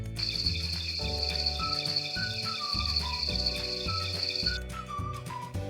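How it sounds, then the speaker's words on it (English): Insects chirp in a steady, high, pulsing trill over a bouncy musical backing of plucked notes and light whistles, fairly loud and continuous without speech. "Insects."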